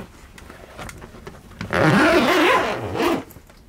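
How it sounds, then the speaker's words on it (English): A zipper on the ladder storage compartment of a Swift KonTiki 679 motorhome is pulled open in one long, close rasping stroke that fades toward the end. "through this zipper here"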